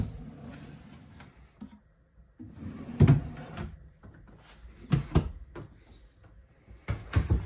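Pull-out drawers in a Forest River Sierra RV slide open and shut several times, with soft rolling glides and a few sharper knocks as they close, nearby and fairly quiet.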